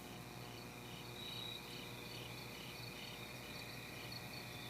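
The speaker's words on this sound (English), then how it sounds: "Crickets chirped and the forest canopy swayed around us." A steady, dense chorus of crickets chirping in a quiet night forest setting, continuous and fairly soft throughout.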